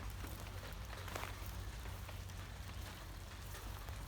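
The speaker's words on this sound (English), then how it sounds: "Starting to rain." Light rain patters steadily on the plastic skin of a hoop house sheltering garden beds, a soft even hiss with scattered drops and no voices.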